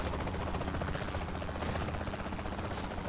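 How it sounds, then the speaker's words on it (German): A helicopter's dense, steady rotor thrum in the video game Saints Row: The Third fills the whole stretch, loud and close, with a constant rumbling drone and no pauses. "jetzt kommt der nächste Heli"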